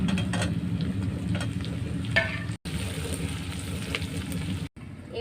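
Whole peeled garlic cloves and slit green chilies sizzling in hot oil, a steady close frying hiss with occasional stirring scrapes throughout, briefly cut by two short gaps.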